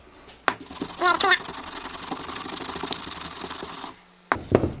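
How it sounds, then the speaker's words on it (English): Close, rough scrubbing with a stiff plastic wire brush on a Yamaha carburetor rasps steadily for about three seconds, with brief clicks and handling knocks before and after. "Now what I'll do is I'll get my plastic wire brush."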